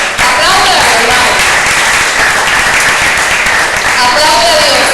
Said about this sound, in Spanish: Aplauda, hermano.